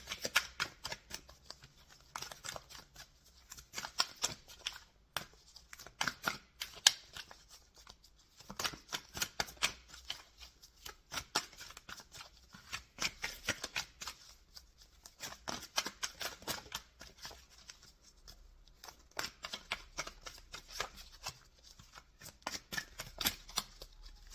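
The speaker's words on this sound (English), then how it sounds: "While I'm shuffling" Tarot cards riffle and shuffle in repeated bursts of crisp flicking, close up and moderately quiet, with brief pauses between rounds and no talking.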